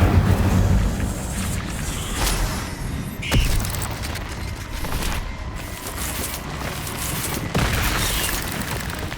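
Incendio fire spell blasts in Hogwarts Legacy, repeated whooshing bursts and booms spaced a few seconds apart over dense, continuous combat noise.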